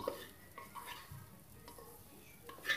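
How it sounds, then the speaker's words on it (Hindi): Rice and dal roast in a pan while being stirred, with soft scraping stirs and faint sizzling that stay quiet, plus a few light clinks near the start and end. "और इसे चावल और दाल को 3 से 4 मिनट तक ऐसे ही भूनना होगा"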